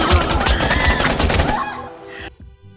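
Rapid gunfire from the 2016 action film Headshot bursts loudly in a dense volley for about a second and a half, then fades into ringing, quieter movie sound.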